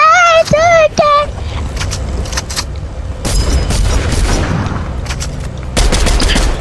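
A burst of rapid video-game gunfire, loud and close, firing at an airdrop in a Bedwars-style game, with booming shots and mechanical noise that keep going after an opening electronic chirp and some talk.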